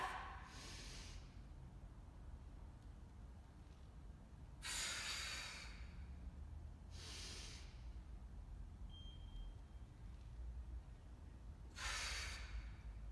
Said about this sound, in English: on each new rep, I'm going to take another breath